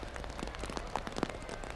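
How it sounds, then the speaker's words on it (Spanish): Steady rain falls during a Holy Thursday street procession, a soft continuous patter with scattered louder drops and a couple of sharper taps, moderately faint and with no talking. "mientras esta lluvia continúa de una manera ahora"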